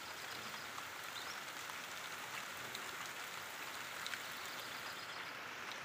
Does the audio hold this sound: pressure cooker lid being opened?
no